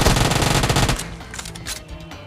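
Rapid automatic Uzi fire in the mobile battle-royale game Battlegrounds Mobile India, a loud continuous burst for about a second, then fainter scattered shots and game noise without talk.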